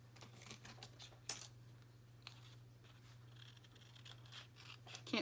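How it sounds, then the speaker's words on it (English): Small fussy-cut scissors snip paper in a quiet room, with a few sharp crisp clicks and faint rustles over a steady low hum, close and soft. "Can't find my big scissors, so I'm having to use my fussy cut scissors to do it"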